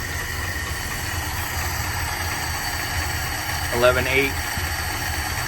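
A 1962 Dodge D200 truck engine idles steadily throughout, a low, even rumble under a voice, with a brief louder clatter near the end.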